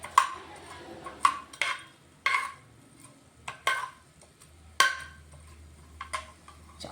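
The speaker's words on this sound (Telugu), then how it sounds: "కొంచెం మెంతులు వేడయ్యాక ధనియాలు, జీలకర్ర వేసుకున్నాను." Fenugreek, coriander and cumin seeds dry-roasting in a pan, with sharp, irregular clinks and scrapes of stirring over a faint background crackle.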